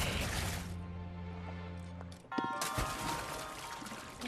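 An object dropped into water in Breath of the Wild lands with a single splash after a low steady drone, followed by a brief liquid trickle and game ambience.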